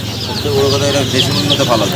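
A crowd of tiger chicken chicks chirps continuously in high, overlapping peeps against a steady background hum.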